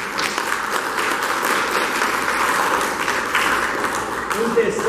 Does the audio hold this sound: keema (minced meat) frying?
no